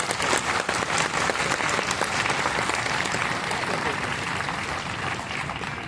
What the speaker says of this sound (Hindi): खुलकर तालियां एक बार